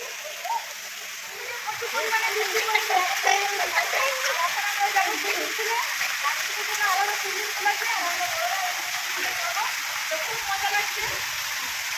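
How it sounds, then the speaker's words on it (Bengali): Heavy rain falls onto a resort swimming pool at Digha, making a dense, steady rush of water with some splashing. Voices are heard under it. "প্রচুর বৃষ্টি পড়ছে আর চলে এসেছি সুইমিং পুলে।"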